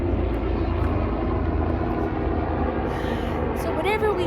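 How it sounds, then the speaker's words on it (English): A helicopter passes overhead outdoors, a steady low rotor rumble filling the background throughout, with a faint rising whine near the end. "oh, we got a helicopter above us."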